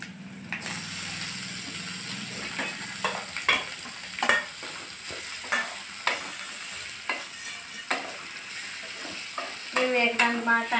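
Ivy gourd (tindora) sizzles steadily in a hot pan while a spatula scrapes and stirs in repeated sharp clacks, close and fairly loud, with no talk.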